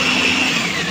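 A blender mixing garlic sauce ingredients (mayonnaise, vinegar and salt) whirs loudly and steadily in a short burst, close by.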